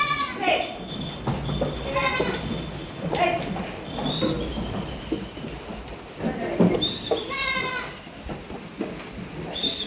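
Goats bleat repeatedly on a farm while being fed, several wavering calls near and mid-distance, mixed with people talking and shuffling movement.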